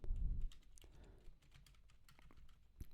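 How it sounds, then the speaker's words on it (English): Quiet typing on a computer keyboard while writing code, a rapid irregular run of soft, close key clicks after a brief low thump at the start. "if you start typing in the variable"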